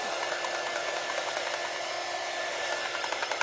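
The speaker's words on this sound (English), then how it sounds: "I need to get a new dryer. I think this one's broken." A hair dryer that seems faulty runs continuously at a steady, loud, close whoosh with a faint tonal whine, no voices over it.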